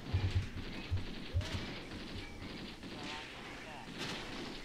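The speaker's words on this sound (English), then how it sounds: "look at all these machine gun rounds, these tracer rounds, flying towards the existing enemy positions" Machine gun fire in the Graviteam Tactics war game, a few low distant bursts early on, then fading into quieter rumbling battlefield ambience.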